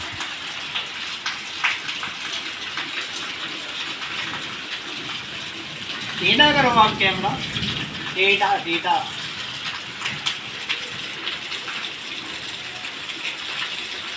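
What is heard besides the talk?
waterfall water splashing while bathing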